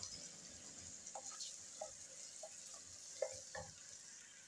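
Ginger garlic paste browns in a pot of oil for a beef and potato korma, a low steady sizzle with faint scraping stirs and soft clinks, heard close with no talking.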